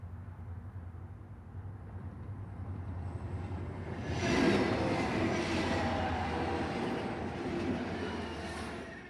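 Virginia and Truckee steam train crossing the Truckee River on a sunny morning, a steady rolling rumble of cars on track that swells slightly louder midway and holds, with no voices.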